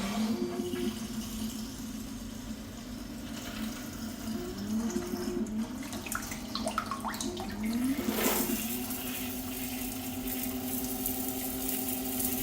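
An electric bidet seat's nozzle spraying warm water, a steady hissing stream with a low pump hum underneath and a few shifting tones as the spray is adjusted, close and continuous without speech.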